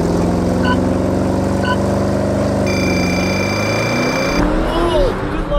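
A Porsche Cayenne Turbo launches in a drag race against a Tesla Model X, its engine droning loud and close as it rises and shifts, while people talk over the engine noise.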